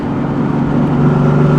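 Steady, loud drone of a 600-horsepower car's engine and exhaust while driving, heard up close from inside with a constant low hum.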